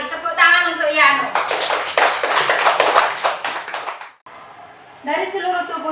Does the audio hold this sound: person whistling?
no